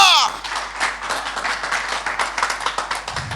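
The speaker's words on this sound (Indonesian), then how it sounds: "Beri tepuk tangan yang meriah, haleluya" Church congregation at a Sunday service breaks into steady hand clapping that continues for several seconds, dense and fairly close, with voices mixed into the noise.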